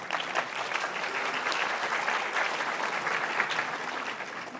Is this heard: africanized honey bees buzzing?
no